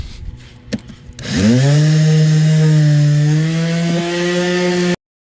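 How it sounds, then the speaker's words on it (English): A power sander spins up after a second of quiet handling, then runs on rusted car rocker panels as a loud, steady whining drone with a slight pitch dip, stopping abruptly at the end. "So we're going to go ahead and start sanding."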